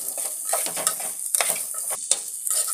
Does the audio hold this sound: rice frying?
yes